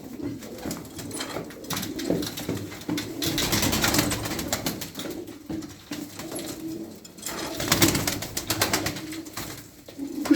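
Domestic pigeons coo repeatedly in a loft, their soft, throaty calls overlapping at a steady moderate level with light rustling and no talk.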